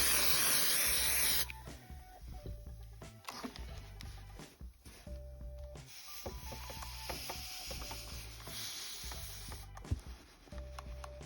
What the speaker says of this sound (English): So now I'm going to use spray starch to give the motifs a bit of crispness.